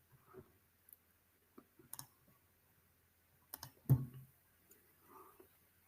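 Sparse, quiet computer mouse clicks on an on-screen button, a handful of short sharp taps spaced irregularly in a near-silent room.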